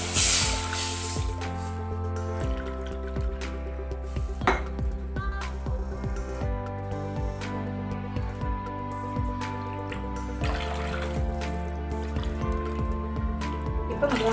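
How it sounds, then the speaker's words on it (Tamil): Water is poured in a steady stream into a metal pan for rava kesari, splashing and gurgling continuously with small metallic knocks of cups and utensils, close and moderately loud. "இப்போ 3 கப் அளவுக்கு தண்ணி ஊற்றியாச்சுங்க."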